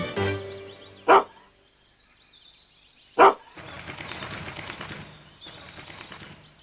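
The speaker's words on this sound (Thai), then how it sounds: "เห่าไล่นกพิราบให้หนีกระเจิงไปแล้ว" A dog barks to chase pigeons away outdoors, giving two loud, sharp, separate barks about two seconds apart, with softer rustling and bird sounds between and after them.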